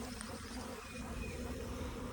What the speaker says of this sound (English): I'm just standing right here in the middle of all this activity with the bees